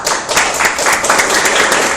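Dense applause and clapping from an audience after a card magic trick, loud and continuous for a couple of seconds with no voices over it.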